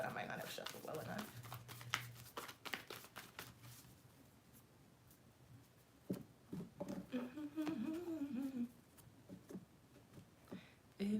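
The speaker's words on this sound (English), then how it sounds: "I'm going to reshuffle for you guys" Tarot cards are reshuffled by hand: soft, rapid riffling and sliding bursts, close and quiet, under a voice that comes and goes, with faint music in the background.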